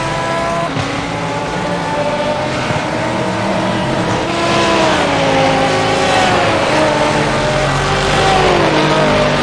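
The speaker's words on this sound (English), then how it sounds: "I think I wore out my tires trying to catch up to Steve." Race cars in a Monza Grand Prix racing video game roar steadily throughout, engine pitch rising and falling through gear changes with a hint of tire squeal, loud and continuous with no talk.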